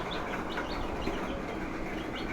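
Chickens cluck and chirp softly over a dense, noisy outdoor background, a few short calls scattered throughout.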